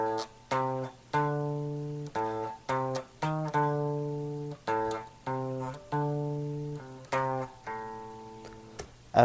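Clean electric guitar picks out a riff: short, evenly paced chord stabs in groups, each ringing briefly before the next, played up close with no other sounds.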